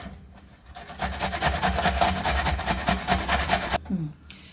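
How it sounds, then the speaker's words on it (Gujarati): A hand grater rasps through pumpkin flesh in a fast, rhythmic back-and-forth scraping for about three seconds, close and fairly loud, while traditional Gujarati pumpkin panela is being prepared. "તો આ છીણવા માટે મેં છીણી લીધી છે. અને આ રીતે આપણે છીણી લેવાનું છે."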